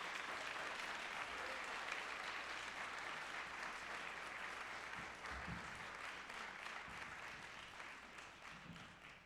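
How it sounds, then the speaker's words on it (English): An audience at a Carter G. Woodson birthday celebration applauds panelists approaching the stage, steady dense clapping held at an even level, faint and distant, fading a little at the end. "let's give our panelists a round of applause as they approach"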